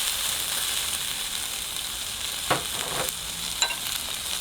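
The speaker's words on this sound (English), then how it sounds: "And so I'm going to saute my vegetables." Vegetables sauté in award-winning Italian olive oil in a pan, a steady broadband sizzle running throughout with a couple of sharp stir clicks near the end, close and moderately loud, no talking.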